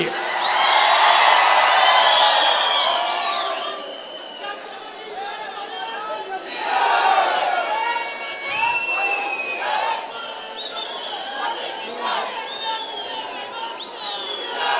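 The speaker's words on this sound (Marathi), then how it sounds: "प्रचंड जल्लोष आहे" A large outdoor crowd at a Dahi Handi festival in Navi Mumbai roars and cheers, with shouts, whistles and whoops swelling and fading over continuous loud chatter.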